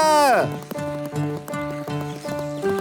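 A horse whinnies loudly at the start, then rhythmic galloping hoofbeats clop along steadily, close and prominent.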